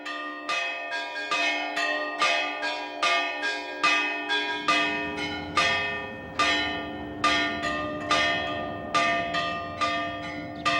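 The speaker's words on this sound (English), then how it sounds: "Bell ringing was once a highly respected art" Church bells ring in a steady, overlapping pattern, several bright bell strikes with long ringing decays, clear and fairly close, with no voices.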